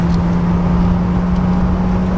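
A Peugeot 207 CC engine pulls hard at full throttle in third gear toward about 5,000 rpm, giving a loud, steady, close drone with a constant low hum and no voices.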